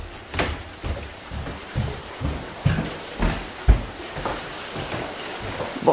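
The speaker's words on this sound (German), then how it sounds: "das ist Hagel" Steady patter of hail striking outside a house, with irregular louder thuds of hailstones landing among the constant hiss.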